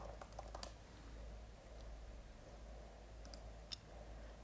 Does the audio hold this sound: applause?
no